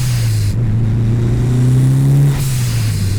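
Turbocharged 4G63 engine of a Mitsubishi EVO 6 pulls hard under acceleration, a steady close droning note rising in pitch, then a brief break around a gear change before the engine note picks up again.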